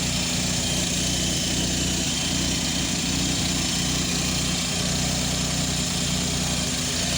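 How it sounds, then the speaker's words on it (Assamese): A Maruti Alto car engine idles steadily for the whole stretch, with a continuous low rumble and vibration heard close up and alone. "চাওক, এইটো ইঞ্জিনটো।"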